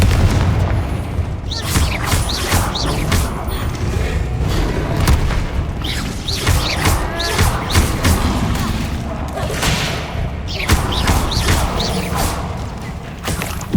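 A Confringo fire spell blasting in Hogwarts Legacy: dense, continuous booming explosions and crackling bursts layered loudly over game ambience and effects.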